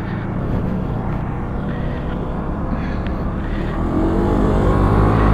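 Honda NVX scooter accelerating on a test ride, a steady close engine drone that rises in pitch and loudness toward the end as it picks up speed, with no talking.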